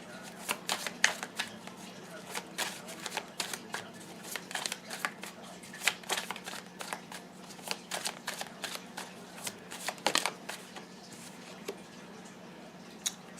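Tarot cards being shuffled during a pick-a-card reading, a steady run of soft riffling flicks and snaps close by, fairly quiet throughout with a low steady hum underneath.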